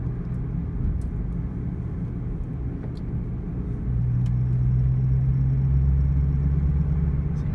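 A 2001 Ford Mustang Bullitt cruises in fifth gear, its engine a steady low rumble heard from inside the car. The drone grows slightly louder and deeper partway through, with no voices.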